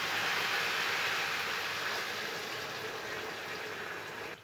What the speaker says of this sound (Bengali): এবারে আমি একটু সামান্য জল দিয়ে দেবো